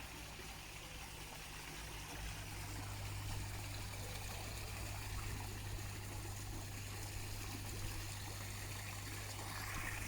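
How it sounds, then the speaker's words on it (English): Hydrogen peroxide is poured into an outdoor koi pond, a soft continuous trickling stream of liquid over a steady low pump hum, faint and close. "What we'll do is we'll just pour this into the pond."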